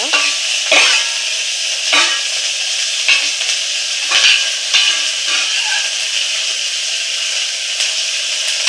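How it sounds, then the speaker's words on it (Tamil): Garlic cloves and onion fry in hot oil for spinach kadayal, a steady loud sizzle running throughout with periodic scraping stirs roughly every second. "அதையும் இந்த வெங்காயத்தை இந்த எண்ணெயில் போட்டு நல்லா சவக்கிற வரைக்கும் வறுத்துக்கோங்க"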